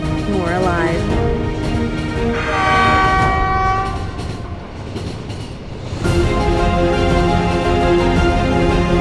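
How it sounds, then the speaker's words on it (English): A train rolls through the Daliang Mountain area with a loud, sustained rumble of wheels and cars, sounding a long horn blast near the middle and another toward the end, all close and steady. "The trains keep moving."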